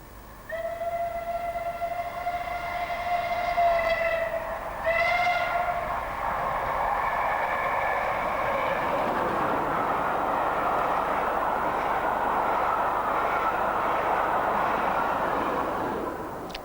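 A passenger train on the Western line, the 9:05 Paddington to Manchester, passes with a loud two-tone horn blast, then a sustained rumbling roar as it runs by close at hand.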